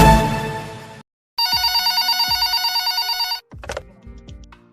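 A telephone rings for a radio call-in caller with a bright, rapid electronic trill that lasts about two seconds. Soft clunks come before and after, and a short chime sounds at the end.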